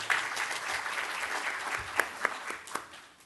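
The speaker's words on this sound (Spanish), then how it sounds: "Un aplauso también, por favor, para el doctor." An audience at a talk on consumer protection and healthy eating applauds a doctor, a thin scattered round of clapping with a few sharper individual claps near the end, fairly faint and brief.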